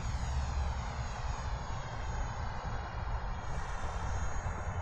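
An E-flite Viper 64mm EDF RC jet taxis at low throttle, its ducted fan giving a steady, fairly loud whine and rush close by, with no voices.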